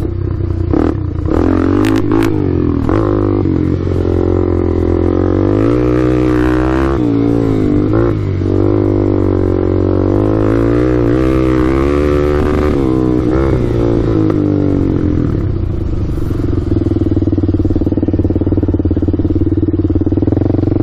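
Engine of a Suzuki LTZ400 quad revving and accelerating hard in second gear, close and loud throughout, rising and falling in pitch as it hits the rev limiter, with a steadier drone toward the end.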